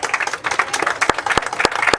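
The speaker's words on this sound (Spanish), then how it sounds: "le ofrecemos un aplauso por favor para empezar" A seated audience at a university lecture applauds to welcome a speaker, dense overlapping hand claps close by at moderate loudness, with a few sharper individual claps standing out and no speech.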